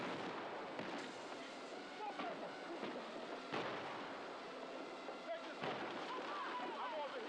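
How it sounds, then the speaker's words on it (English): Gunfire and blasts in the video game Battlefield 6, bursts of shots and booming impacts over a rumbling battlefield, loud and continuous, with a voice talking over the action. "Who's shooting?"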